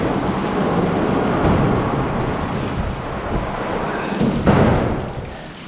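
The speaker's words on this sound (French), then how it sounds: "surtout quand il pleut à l'horizontale" Heavy, wind-driven rain pours down with deep rumbling thunder at a worksite where an excavator is parked, a loud, continuous roar with gusty swells and a sharp crack near the end.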